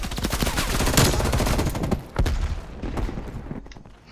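Dense gunfire in Call of Duty Black Ops Cold War, with loud, rapid automatic bursts crackling almost without a break, a short dip near the middle, then more shots that taper off.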